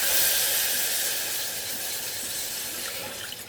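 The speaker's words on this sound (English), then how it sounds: "with a whisk, we're going to slowly add our milk" Milk being poured steadily into a potato side dish sauce while it is whisked, a continuous soft hiss and wash of liquid that holds fairly even throughout and fades slightly toward the end, with no talking.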